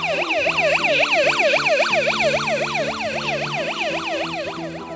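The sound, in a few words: police siren sound made as a student project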